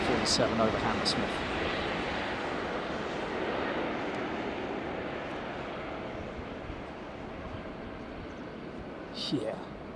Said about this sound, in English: 747 over Hammersmith.